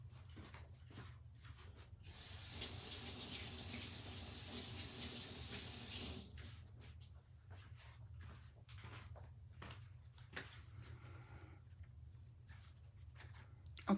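A faucet runs for a few seconds while fingers are washed, a soft hissing stream that then stops, followed by quiet handling knocks and taps.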